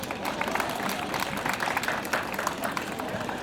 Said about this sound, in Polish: proszę o piękne, gorące brawa dla organizatorów